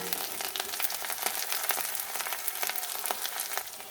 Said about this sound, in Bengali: দেখুন এগুলোকে আমি ভেজে নেব।